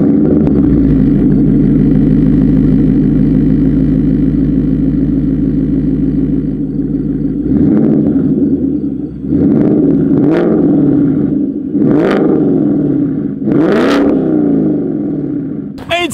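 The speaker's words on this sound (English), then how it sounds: "what you will be hearing is the AWE Touring Catback exhaust system" A 2019 Ford Mustang GT with an AWE Touring catback exhaust idles with a deep steady rumble, then revs in four sharp bursts that rise and fall back, loud and close.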